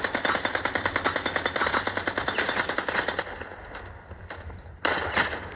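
Rapid automatic gunfire from a gun in a pre-alpha mobile shooter video game rattles in a fast, steady burst, then stops, followed by a few scattered single shots. The shots are close and loud, and no one talks.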